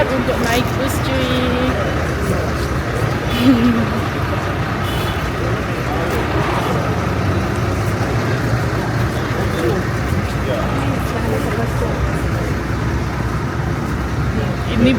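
A bus engine idles at a bus station on the road from Harare to Victoria Falls, a steady low rumble filling the whole stretch under background chatter and passing traffic.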